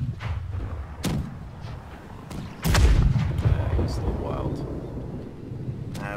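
Cannon fire from a pirate ship in the naval game Blackwake: a loud, booming blast lands midway with a rumbling tail, while sharper shots crack around it and voices talk throughout.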